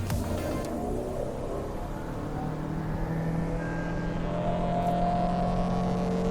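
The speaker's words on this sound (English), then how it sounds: "if I floor it, I don't know if you will be able to hear it, but let me just floor it" A Lexus NX 350h hybrid accelerates at full throttle, heard from inside the cabin as a steady, rising engine drone and whine that swells gradually over road noise, with no talk.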